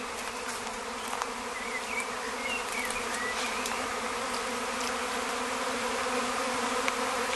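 A swarm of honey bees gathered around a beekeeper's hive boxes. A continuous, even buzzing drone holds steady throughout at moderate distance, with no voices.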